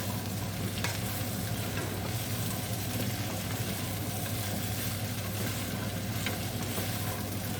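Gnocchi being stirred in a hot frying pan, a steady dense sizzle with scraping and tossing of the spoon through the pieces, continuous and close throughout.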